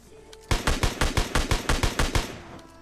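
Rapid SKS rifle shots in PUBG Lite, about a dozen loud, sharp cracks fired in a quick, even burst, then stopping, with no voices over them.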